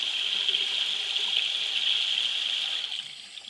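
Lukewarm water runs from a bathroom sink tap in a steady, close hiss that holds evenly and eases off slightly near the end, with no voices.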